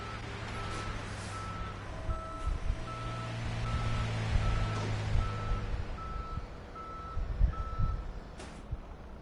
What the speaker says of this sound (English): Showing off the car getting towed.